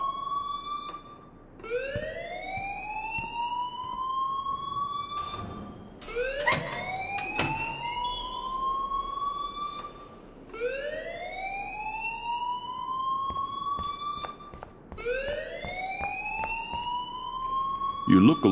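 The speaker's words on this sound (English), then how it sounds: "please turn off that alarm since that's your job" Repeated rising electronic alarm wails sweep upward and hold in long cycles inside a school in the game Life is Strange, loud and continuous, with a brief burst of clattering noise between cycles.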